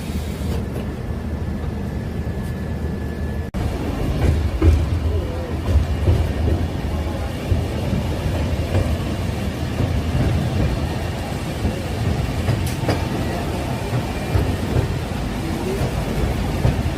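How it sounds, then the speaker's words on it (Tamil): Heavy rain pours through a forest in the Shiradi Ghat on the Hassan to Mangaluru line, recorded from a moving train. A dense, continuous roar of rain and rumbling carriage noise runs loud and unbroken. "ஃபாரஸ்ட்குள்ள ஹெவியா மழை பெய்யுது."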